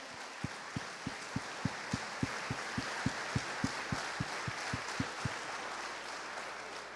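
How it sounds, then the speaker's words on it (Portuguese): Church congregation applauding during a sermon, broad steady crowd clapping with a rhythmic series of loud, regular claps or beats over it, about twenty, that stop before the end while the applause continues. "Pode aplaudir o Senhor bem forte"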